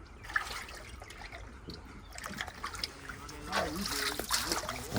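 Water flows from a pipe at Dharoi in a soft, continuous trickle and splash, fairly quiet and partly under people talking nearby.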